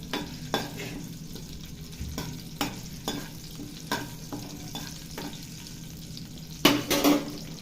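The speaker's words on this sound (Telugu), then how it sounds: "బాగా వేగేదాకా వేగించాలి" Tempering spices, dried red chillies among them, fry in hot oil for a brinjal chutney while being stirred, giving a steady close sizzle broken by repeated scraping strokes and a louder clattering burst near the end.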